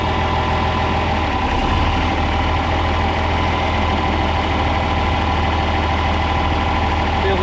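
John Deere 4010 tractor engine running in fifth gear, a loud, continuous low diesel drone with a steady mechanical vibration throughout.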